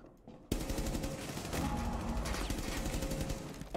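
Rapid automatic gunfire in the Rainbow Six Siege video game bursts in after a short quiet moment, loud and continuous for several seconds as a dense run of shots.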